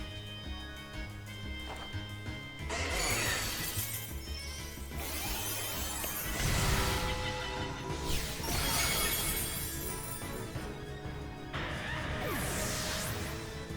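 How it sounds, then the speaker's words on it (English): Crashing, shattering impacts and sparkling bursts of a Terra Blast attack effect in a Pokémon battle game, several loud hits in succession over a busy background of game music. "We're just going to go ahead and Terra Blast again"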